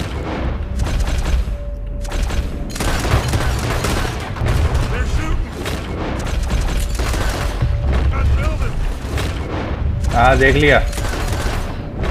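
Gunfire in Red Dead Redemption 2, repeated loud shots and booming blasts in irregular bursts through a busy fight, with someone speaking briefly in Hindi and another voice shouting.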